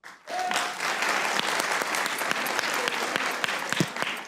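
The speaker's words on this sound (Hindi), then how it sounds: "तालियां बजाएं" A studio audience at a Pakistani TV comedy show bursts into sustained, dense applause that swells quickly and holds steady for several seconds, with faint voices in the background.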